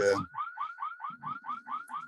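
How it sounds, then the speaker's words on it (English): A home security alarm, set off when a door was opened, sounds a steady series of rising electronic chirps at a quick, even pace, with a brief voice at the start. "My wife forgot to turn off the alarm before opening the door."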